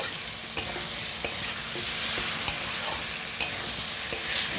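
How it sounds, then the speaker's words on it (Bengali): Potatoes sautéing in a pan for a Bengali fish curry, a steady sizzle punctuated by regular sharp scrapes and taps of a spatula roughly every half second, close and clear with no talking. "এটাকে জল দিয়ে দিয়ে ভালো করে কষাবো"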